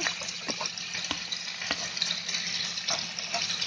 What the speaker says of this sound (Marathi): हे सर्व आहे ना पहिलं फ्राय करून घेते